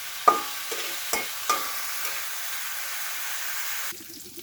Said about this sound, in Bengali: এগুলিকে একটু লাল লাল করে ভেজে নেব।